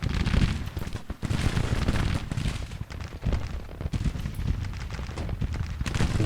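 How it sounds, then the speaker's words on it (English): Rapid, continuous musket and cannon fire in a Civil War battle in the strategy game Grand Tactician: The Civil War, a dense, rolling crackle of volleys with scattered heavier booms throughout. "I guess our soldiers are now opening up fire."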